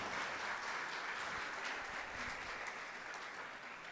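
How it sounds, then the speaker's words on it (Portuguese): A church congregation applauds steadily for several seconds at a talk on married life, a dense wash of many hands clapping at an even level, fairly loud, with no voice over it. "Vamos aplaudir ao Senhor"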